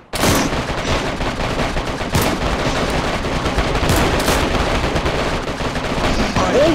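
Rapid automatic gunfire and heavy explosive blasts from a grenade launcher in the video game DayZ, loud and sustained with sharp bursts, while players shout and talk over the fighting.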